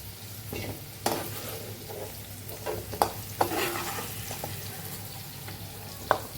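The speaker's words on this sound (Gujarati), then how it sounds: "હવે આપણે એનો વઘાર કરશું" Low, steady sizzle of spices tempering in hot oil with scattered sharp crackles and a few clinks of a utensil, quiet and close, no talking.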